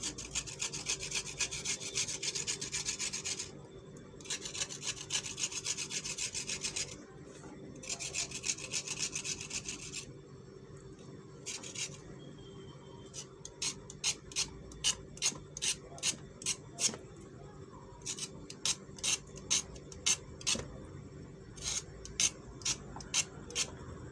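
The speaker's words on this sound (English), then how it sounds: "Now I'm done peeling the carrot and it's nice and smooth, like this." A carrot is peeled for homemade baby puree, heard as long rasping scrapes that shift into a rapid run of short, crisp strokes, close and steady with no talk.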